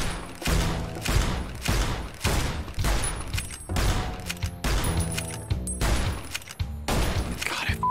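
Gunfire from a gun in Fallout: New Vegas, a steady string of about a dozen loud, punchy shots fired in a regular rhythm with short gaps, close and alone with no talk.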